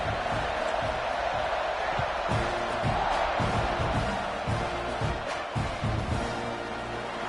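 Stadium crowd noise from a Madden-style football video game, a steady broad roar with scattered cheers and thumps held at an even level throughout, building slightly before a kickoff.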